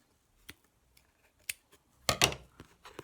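Scissors snip through yarn to free a handmade weaving from its loom, a few quiet isolated clicks followed by a louder, longer cluster of cutting snips near the end, close and without talk.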